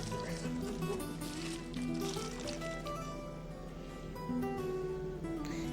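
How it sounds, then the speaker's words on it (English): Two cups of water pour into a pot of homemade chili made with seasoning mix, a soft, continuous liquid splash and trickle heard close and fairly quiet, with no talking over it. "now I'm going to add in 2 cups of water"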